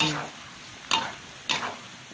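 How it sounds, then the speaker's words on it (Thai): Garlic sizzles in a hot pan while a utensil scrapes and stirs, with two quick stirring strokes cutting through the steady frying hiss. "คนไปเรื่อยๆอย่าให้ติดกระทะ"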